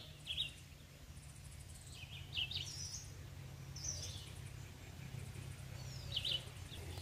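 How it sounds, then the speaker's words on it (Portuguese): Birds singing in a forest, faint scattered high chirps and short trills at a distance over a steady low hum of background noise. "E vou parar um pouco aqui só para você ouvir o canto desses pássaros."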